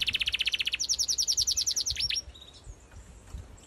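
Cartoon birds chirping in a quick rhythmic run of high, clear tweets, loud and close, fading to a few softer calls at the end.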